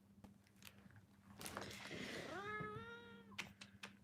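A pet cat gives one drawn-out, clear meow close by, rising and then holding, amid soft rustling and small clicks in a quiet room.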